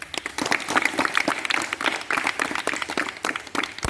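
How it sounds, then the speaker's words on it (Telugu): An Independence Day celebration crowd claps warmly, a dense, steady patter of many hands held at an even level from start to finish. "ఇంత గ్రేట్ గ్రేట్గా క్లాప్స్ కొట్టాలి కదా మనం"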